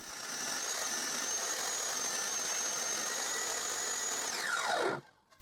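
A power saw runs at a steady high whine while cutting a wood strip for a woodworking project, then winds down and stops near the end; loud, close and continuous, with no speech.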